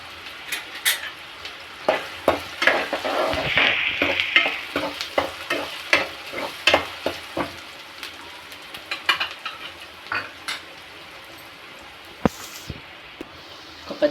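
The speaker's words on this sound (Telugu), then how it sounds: "మంచిగా బ్రౌన్ అయ్యేదాకా ఫ్రై చేసుకోవాలి." Onions fry in oil until brown, giving a steady close sizzle. A rapid run of sharp spatula scrapes and taps against the pan repeats through most of the stretch, fairly loud and with no talking.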